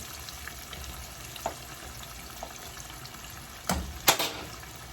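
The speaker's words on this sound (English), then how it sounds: "And you just let these fry." Crab pieces frying in hot oil for garlic salt and pepper crab, a steady low sizzle running throughout with a couple of brief louder spatters or clatters near the end, no talking.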